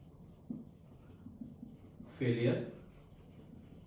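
Writing on a board during an engineering lecture on impact loading makes soft scratching strokes in short repeated bursts, with a voice speaking over them.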